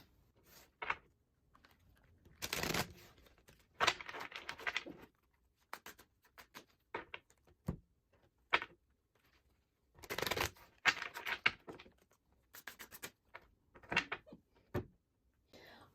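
Tarot cards shuffled by hand in bursts of crisp riffling and soft slaps, with several separate shuffles spread across a quiet room, close and moderately loud between silent gaps.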